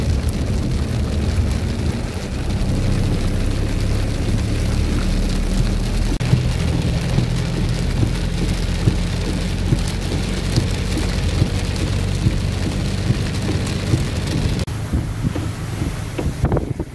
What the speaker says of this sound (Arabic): بداية الأمطار الآن على مركز الخشل شمال الحرث